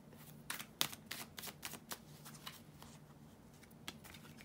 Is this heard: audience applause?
no